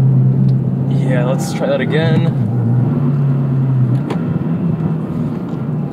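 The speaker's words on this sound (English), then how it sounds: "Let's see, let's do a little short shift." A 2022 Subaru WRX Premium engine during a short shift, heard as a steady low in-cabin drone that holds and shifts pitch slightly under a man's speech.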